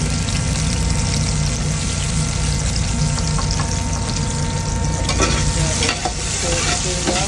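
Onions sautéing in olive oil for Filipino pork menudo, a loud, steady close sizzle with constant crackling and occasional stirring, no talk over it.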